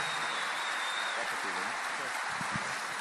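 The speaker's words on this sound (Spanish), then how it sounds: "Franco, un fuerte aplauso para esta gran estrella" Steady, dense audience applause for comedian Franco Escamilla at the end of a live stand-up show fills the whole stretch, with a few low voice-like bursts mixed in beneath the clapping.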